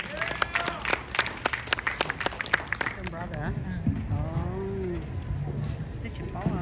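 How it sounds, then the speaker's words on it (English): Crowd applause at a Hmong American Day gathering in Fresno, California, with crisp rapid claps for the first half before the clapping fades under a loud, echoing announcer voice and a sustained tone over the PA. "Round of applause for Pao Yang."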